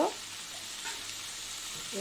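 Chicken and potato pieces fry in a pan with a brief, soft, steady sizzle, while bits of a voice come through at the start and end.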